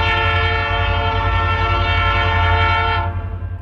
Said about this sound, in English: the sound of the beautiful K5 LA air horns echoing off the Jackson skyline